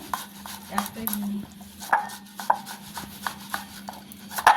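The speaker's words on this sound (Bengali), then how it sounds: "এরকম করে সবগুলো আম চেঁচে নেব" A utensil scrapes repeatedly against soft mango flesh and a dish, short rhythmic strokes about once a second, close by.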